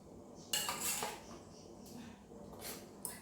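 Ground coconut and cumin paste added to a taro stem curry: a few soft scraping and clinking sounds of a utensil against a pot, faint and close, with no talking.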